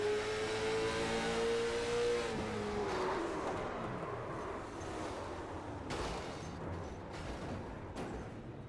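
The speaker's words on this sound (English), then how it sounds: "we'll ride on board Corey Tesner and listen to the engine" Onboard a late model race car at Martinsville Speedway, the engine roars loudly with a falling pitch as it lifts off, then drones on steadily at high volume.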